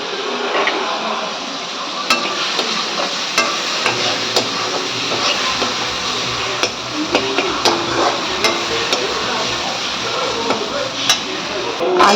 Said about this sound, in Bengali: এবার আবারও একটু কষিয়ে নেব আর এবার দিয়ে দেবো আর এবার দিয়ে দেবো টমেটো কুচি